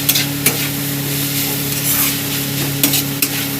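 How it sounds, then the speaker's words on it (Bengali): Chopped tomato is stirred in a hot pan while making stuffed capsicum, with a steady sizzle under a few sharp scraping strokes of a spoon against the pan, close and without any talking. "টমেটো কোচানোটা দিয়ে দিলাম। ভালো করে নাড়িয়ে নেব।"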